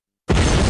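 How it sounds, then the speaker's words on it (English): After a moment of silence, a sudden loud explosive boom from a laboratory explosion bursts out and roars on without fading before the clip ends. "had many explosions in his lab"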